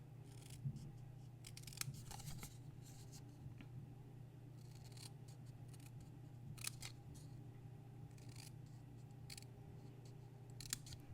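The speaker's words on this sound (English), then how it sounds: "I'm going to cut just to the inside of the score line. I'm just going to do those long cuts first." Scissors cut paper card along a scored line for a mini matchbox card, a quiet run of repeated crisp snips and slides with no talking.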